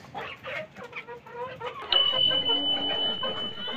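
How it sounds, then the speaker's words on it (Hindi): Hens clucking softly and steadily nearby as they peck at crushed eggshells, with a brief louder squawk partway through and a faint tone in the background. "मुर्गियां जो हैं खाने में मसरूफ़ हैं"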